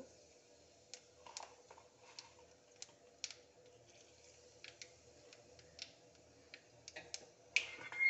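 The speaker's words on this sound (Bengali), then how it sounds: "এবার তেলে আমি কালো জিরে ফোড়ন দেব" Nigella seeds tempering in hot oil after frying eggplant: scattered faint pops and crackles, irregular and sparse, building slightly toward the end, quiet and close with no talk.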